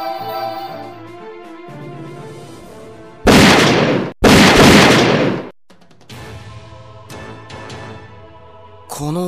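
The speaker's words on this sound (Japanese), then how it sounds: "銃声です。" Gunshots ring out in the video game Record of Agarest War 2 as two loud, harsh bursts of gunfire back to back, cutting through sustained background game music.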